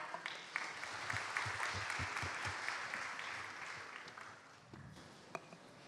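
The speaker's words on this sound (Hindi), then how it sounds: "एक बार जोरदार तालियां।" An event audience bursts into applause as a guest is called to the stage, a dense roll of clapping with a few sharper close claps early on, tapering toward the end, fairly quiet overall.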